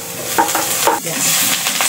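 Onion and garlic sauté in cooking oil with a dense, close sizzle and quick scraping strokes from a spatula against the pan, steady and loud throughout.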